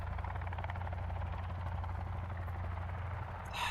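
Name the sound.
helicopter flying in the video game Sons of the Forest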